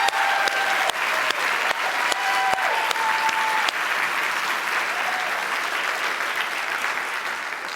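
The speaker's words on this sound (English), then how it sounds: "let's have a round of applause for our new board members." Audience applause at an interior design association's annual meeting, welcoming new board members: sustained, dense clapping from a large crowd, steady and fairly loud throughout with a few sharper claps near the start.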